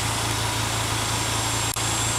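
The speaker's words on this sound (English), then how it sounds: "I don't know if you can hear that rumble" A 2005 Volvo 2.5T with a Eurosport 2.5-inch catback exhaust and 3-inch tip idles steadily, a low continuous rumble with a brief click near the end and no talking.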